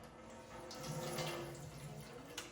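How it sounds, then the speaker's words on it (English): Water drains from food in a kitchen strainer, a soft, steady trickle and patter with no talking. "Make sure I strain everything. I want all the water from inside to drain."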